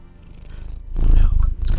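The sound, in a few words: cat purring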